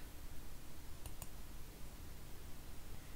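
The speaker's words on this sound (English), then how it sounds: "Let me click on view instances." Two quick computer mouse clicks, faint and close, over quiet room hiss while someone works at a desk.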